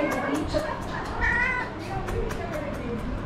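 A cat at a village house meows in short repeated calls, close by, with people talking over and around it.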